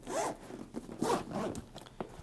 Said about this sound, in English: So I'm gonna zip that up just for a smaller form factor.